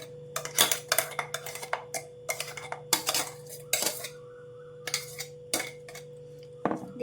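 A spoon clinks repeatedly against a deep bowl while ground paste is mixed into about six litres of oil, making sharp irregular metallic taps and scrapes that sound close and loud, with no talking.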